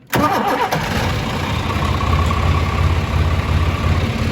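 Vehicle engine cranks with the key and catches almost at once, then settles into a loud, steady rumbling idle close by with no talking.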